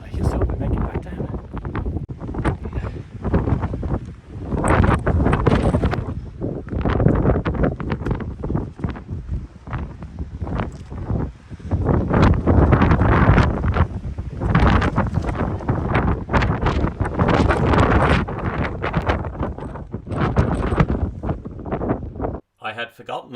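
Strong wind on the Isle of Skye near the Old Man of Storr buffets the microphone in loud, rumbling gusts throughout, roaring continuously with barely any pause.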